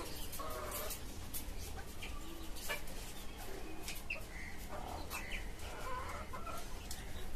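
A tiger chicken rooster in a caged backyard poultry farm clucks softly and repeatedly over a constant background hum, fairly faint and without speech.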